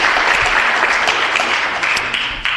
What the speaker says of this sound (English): Let's give them a round of applause just for that.